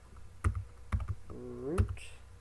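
Several separate clicks of keys on a computer keyboard as a password is typed, spaced irregularly, with a short electronic tone and faint background sound between them.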